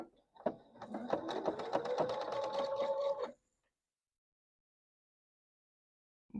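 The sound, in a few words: sewing machine sewing a seam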